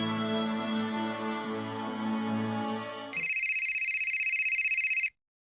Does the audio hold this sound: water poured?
no